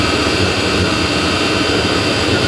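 A Chinese diesel heater burning engine oil winds down, giving off a loud, steady roaring whoosh with an even rumble that holds nearly constant over the short stretch.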